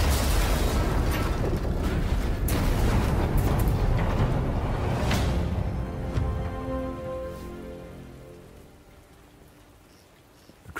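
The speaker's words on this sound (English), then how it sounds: "The gun will blow when it's fired." A sabotaged artillery gun in Sniper Elite blows apart when fired, and a heavy, dense roar of blast and crackling debris fades gradually into a quiet tail with ringing tones.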